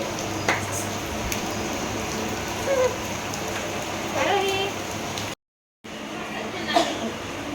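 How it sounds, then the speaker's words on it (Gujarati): Heavy morning rain falls in a continuous steady wash, with drops pattering close on a surface, a short gap in the middle, and a few faint household noises but no clear talk. "આજે વરસાદ છે સવારનો વરસાદ"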